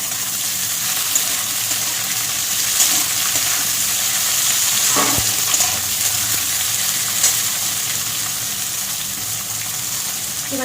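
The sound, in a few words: frying eggplant with bitter gourd in a pan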